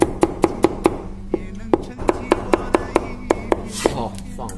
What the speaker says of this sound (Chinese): 再来切点黄瓜丝儿